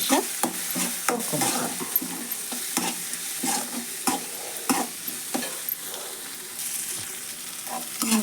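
Chopped tomato and onion fry in oil with turmeric for a North Karnataka-style bean palya, stirred steadily with repeated scraping strokes over a constant close sizzle and no talking.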